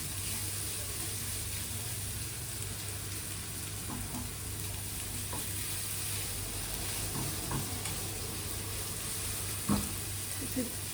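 Sliced potatoes cooking in a little oil in a pan over low heat for Spanish huevos a la flamenca, giving a faint, even sizzle with occasional soft clicks, no talk over it.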